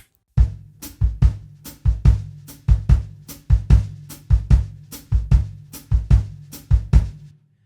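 A bossa nova foot pattern played on a drum kit, imitating the surdo part: a steady, repeating two-beat figure of deep thumping bass hits paired with sharp cymbal or stick strikes, loud and close with no talking.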